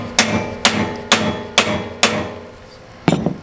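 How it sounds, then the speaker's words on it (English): Five sharp hammer strikes driving bushings into trailer leaf springs at a steady pace, then a pause and one more blow, each ringing briefly before fading. "I hammered them about halfway in"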